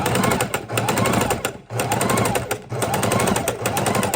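A sewing machine stitches the corners of a fabric soup bowl, running loud and steady in three bursts separated by short pauses.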